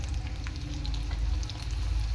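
Battered eggplant slices for beguni deep-frying in oil over a lowered gas flame, a steady close bubbling sizzle with faint crackles and pops running without pause.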